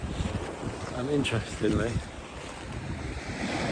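North Sea surf washing onto a pebbly beach at Withernsea, a steady broad wash with wind buffeting the microphone, while someone talks over it briefly.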